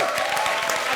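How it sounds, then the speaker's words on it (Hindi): Dense applause from a crowd, steady and fairly loud throughout the short moment, with no pauses or voices standing out. "जोरदार तालियां।"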